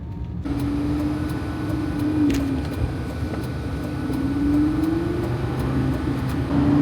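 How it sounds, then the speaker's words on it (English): A Lamborghini Gallardo with its factory exhaust drones steadily while being driven on the road, a loud low engine rumble filling the cabin with a tone that slowly rises and falls as the car changes speed. "That exhaust, the sound of the exhaust from factory is just amazing."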